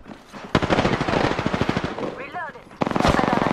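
Rapid automatic gunfire from the Apex Legends video game on the Olympus map, loud bursts in two runs with a short gap between them, a brief chirping effect in that gap.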